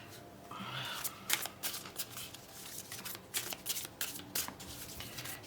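Tarot cards being shuffled and drawn, giving a run of soft papery riffles and flicks with sharper snaps of individual cards, close and fairly quiet with no talking.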